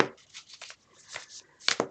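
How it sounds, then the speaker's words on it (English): Tarot cards shuffled by hand, close and crisp, in a run of quick riffling bursts with a brief pause before a sharper final flurry. "I'm going to keep shuffling."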